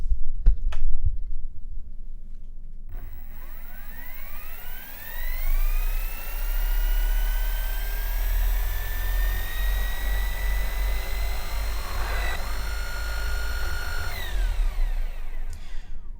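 A Genesis Hellfire motor whirs up with a rising, strained whine that climbs in pitch and then shifts abruptly as it crosses its speed threshold, with a grinding, struggling edge near the end, loud and close.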